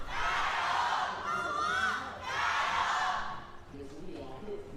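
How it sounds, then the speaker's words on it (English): A loud esports arena crowd at an LPL League of Legends match cheers and yells in sustained roaring swells, rising and falling in waves before easing slightly at the end. "Set the crowds yell for one final time today."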